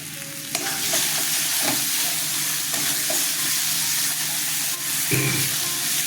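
A tomato and green chilli spice paste for a fish curry fries in a pan, giving a dense, continuous sizzle with intermittent stirring clinks and scrapes.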